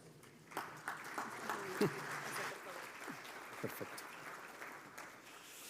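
Audience applause welcoming the Vice Minister of Foreign Trade at a Bolivian economic integration closing conference, a moderate scattered clapping under a brief spoken word, with a few sharper claps standing out.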